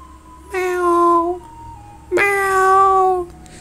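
Two drawn-out, tonal cat meows follow one another with a pause between, clear and close against a quiet background.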